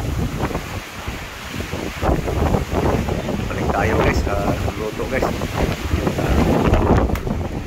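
Strong gusting wind batters the microphone with loud rumbling bursts, while a person speaks briefly underneath.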